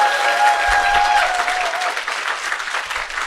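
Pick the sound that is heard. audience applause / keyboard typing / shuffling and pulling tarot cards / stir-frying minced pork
audience applause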